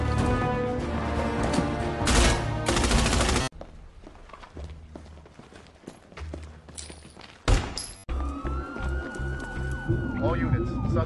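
Gunfire from a police shootout scene in the 2019 film 21 Bridges sounds as sharp bangs and thuds within a busy, dense soundtrack, with voices talking over the action.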